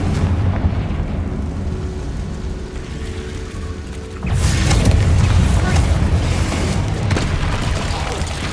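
Spell blasts from the Confringo fire spell in Hogwarts Legacy, a loud low boom that swells and holds as a rumbling burst, with a steady game ambience underneath before it.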